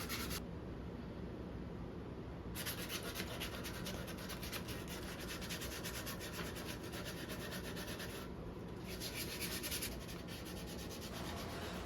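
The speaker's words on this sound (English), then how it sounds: "here I'm just gonna use some wood glue and sandpaper to seal those up" Sandpaper rubs back and forth over a wooden vintage saw handle, a soft, steady scratching close by with brief pauses, and no voices.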